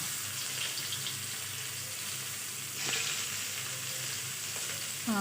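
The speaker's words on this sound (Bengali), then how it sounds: "এখন কড়াইতে যে তেলটা আছে তার মধ্যে আমি পেঁয়াজ কুচি আর সাথে তিন থেকে চার কোষ রসুন কুচি আমি দিয়ে দিব" Chopped onion and garlic fry in hot oil in a wok for a Bengali fish curry, giving a steady, close sizzle with a brief burst of louder crackling partway through.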